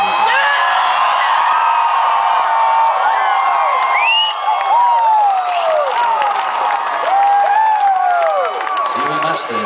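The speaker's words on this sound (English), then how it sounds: "best crowd I've ever seen." Concert crowd at a country show cheering, whooping and clapping, a dense, loud, continuous roar with high shouts rising over it throughout.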